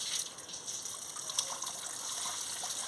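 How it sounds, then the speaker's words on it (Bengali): Water runs and splashes steadily as chopped cabbage and potatoes are rinsed for a fish-head cabbage dish, a close continuous rushing with small sloshes and no voices. "দেখুন, ধুয়ে নিচ্ছি ভালো করে।"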